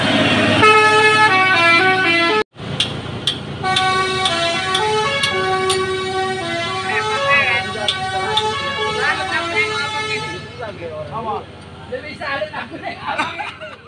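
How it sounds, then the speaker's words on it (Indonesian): A Hino 500 truck towing a CPO tanker unit rumbles along a mountain road with its engine droning, while horns honk in tonal blasts. People talk over the traffic. "Udah digandeng itu Hino 500 tadi"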